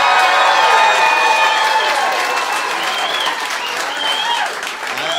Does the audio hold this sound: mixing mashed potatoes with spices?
no